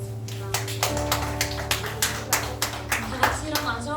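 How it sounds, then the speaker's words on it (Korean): A church congregation at a high school Sunday service applauds together, a steady run of hand claps lasting several seconds over a sustained low organ-like tone. "하나님께 영광의 박수 올려드리겠습니다."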